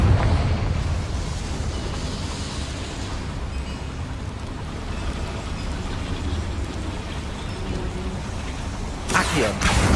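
A Confringo blasting spell explodes in Hogwarts Legacy, a sharp burst erupting near the end over a constant rumbling bed of game noise.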